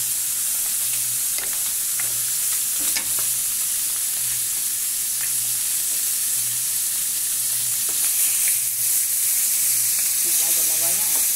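Food fries with a constant bright sizzle and hiss while it is stirred now and then until browning, with a brief voice near the end.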